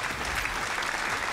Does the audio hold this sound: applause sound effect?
yes